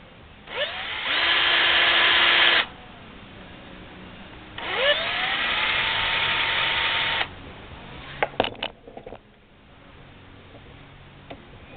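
A powered case trimmer cuts brass from .44 Magnum cartridge cases in two whirring bursts of a couple of seconds each, separated by a pause, followed by a few sharp clicks and handling noises near the end.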